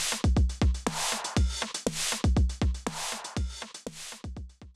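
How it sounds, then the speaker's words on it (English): A drum loop heavily distorted by the SKnote DISTO plugin, with punchy kicks and snares, loud and gritty, repeating in a steady rhythm with no voices. "Full-blown distortion."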